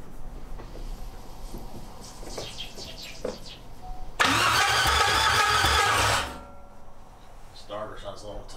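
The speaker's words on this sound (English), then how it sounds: "Starter sounds a little tight." LS-swapped Chevrolet S-10 truck starter cranking on its first start-up, a loud steady two-second grinding churn that cuts off abruptly, with people talking quietly before and after.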